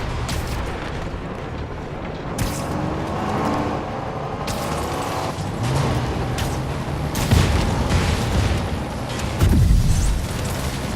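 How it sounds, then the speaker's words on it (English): Rockets launching and exploding in a Marvel's Spider-Man video game battle, a dense continuous roar of blasts and rumbling booms with heavier explosions building toward the end, no talk. "why is everyone shooting rockets all of a sudden?"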